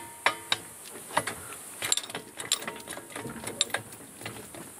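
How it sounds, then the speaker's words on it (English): A wrench ratchets in short, sharp clicking bursts while snugging the blade nut on a bush hog, close and fairly quiet, with metallic ticks spread unevenly over a few seconds. "the nut's turning. So just need to snug that up"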